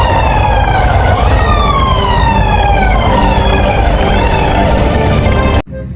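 A toy fire truck's electronic siren wails loudly in rising and falling sweeps, continuous and close, then cuts off abruptly near the end.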